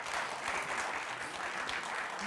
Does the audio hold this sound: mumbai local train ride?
no